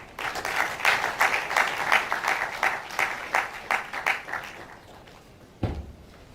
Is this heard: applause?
yes